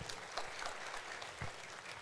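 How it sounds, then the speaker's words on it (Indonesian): Soft, distant clapping from an audience at a parenting seminar, a faint steady patter of applause with no talk over it. "Tepuk tangan dulu dong buat Kak Sinyo."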